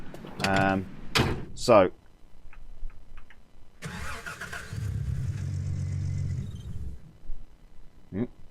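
A vehicle engine in Gold Rush: The Game cranks and catches, runs briefly at a low idle, then stalls and cuts out, with a short mechanical clunk at the end and a voice speaking near the start.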